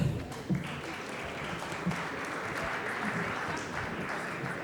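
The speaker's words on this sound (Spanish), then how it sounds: "un aplauso para ellos, por favor" An audience at a supply-chain panel session applauds the speakers, moderately loud clapping that holds steady, with a few voices and a brief spoken moment near the start.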